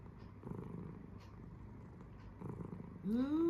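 Soft, close rumbling cat purr that pulses steadily, ending with a louder rising meow-like cry.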